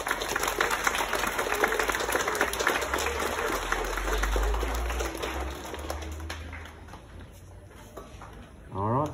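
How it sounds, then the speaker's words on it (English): School assembly applause, a broad wash of many hands clapping at moderate level that fades toward the end, with a brief voice at the close. "Can we give him a big round of applause?"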